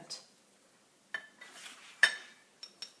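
A brush mixes watercolour paint in a palette: a few sharp clinks and taps of the ferrule against the palette, separated by soft swishing strokes, quiet and close with no talking.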